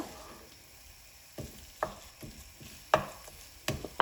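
Ripe banana being mashed in a pan for ethapazham ada, heard as a series of soft, irregular squelching presses and scrapes, close and clear against a quiet background.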